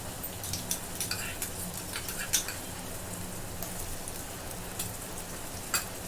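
Ginger garlic paste stirred into fried onions in a home kitchen pan while making chicken soup, giving a soft steady crackle of frying with light scraping and occasional sharper clicks throughout, fairly quiet and without talk.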